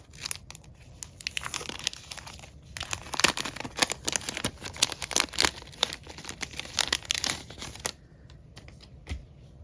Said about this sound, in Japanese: お譲りいただいた分を、開封していきます。